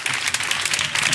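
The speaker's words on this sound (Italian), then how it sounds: "Continuate l'applauso per favore." Studio audience at an Italian live comedy podcast recording applauding: dense, loud, continuous clapping from a crowd, close and steady throughout, with no voices on top.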